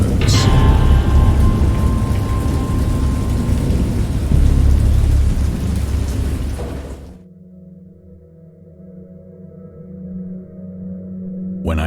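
Heavy rain pours steadily with deep rolling thunder for several seconds, then drops away to a quieter low rumble and sparse dripping before a fresh swell at the end.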